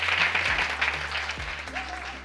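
An audience at a plastic workshop clapping, a brief burst of applause heard alongside a low hum and some faint speech.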